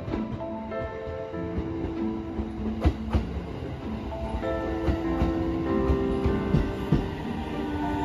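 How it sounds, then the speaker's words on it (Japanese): A JR 313 series 3000 local train on the Iida Line pulls into a station in winter, wheels clacking over rail joints with a steady hum, metallic squeals and tonal motor whine, loud and close. "235M 列車が到着しました。"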